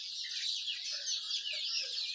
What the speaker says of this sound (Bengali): আমরা দেখানোর চেষ্টা করছি মিশরি ফার্মে মুরগি